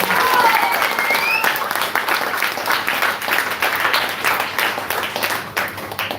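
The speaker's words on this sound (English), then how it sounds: "giving him the loudest round of applause ever" Steady, enthusiastic applause from a crowd at a religious celebration of a holy night in the month of Kartik, dense clapping sustained for several seconds with a few cheers at the start.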